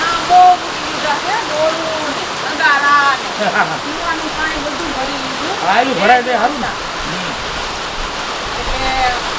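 Steady heavy rain pours down in a continuous broad hiss, with people talking over it throughout.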